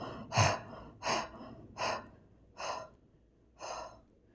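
A narrator imitates a running man's panting with his voice: five heavy, breathy gasps at a steady, spaced rhythm, close and fairly loud, with no other talk.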